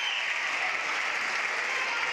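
A hometown crowd at a girls high school basketball game, Bryan against Swanton, gives steady sustained applause filling the gym, even and unbroken throughout.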